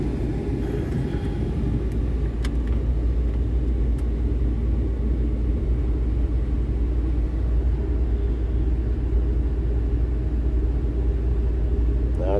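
Air vents in a 2010 Ford E350 van blow with a constant broadband rush over a low interior rumble, steady and unchanging throughout.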